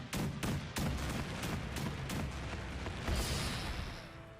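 Franky Cannon attack in One Piece Odyssey, a rapid series of loud booming blasts, about eight sharp shots in quick succession, then a heavier rumbling burst that fades out.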